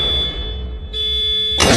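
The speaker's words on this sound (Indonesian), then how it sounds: "alarm mobil box milik Jokyun berbunyi" A box truck's alarm blares as a steady electronic tone that briefly dips and resumes, then gives way to a sudden burst of louder, noisier sound at the very end.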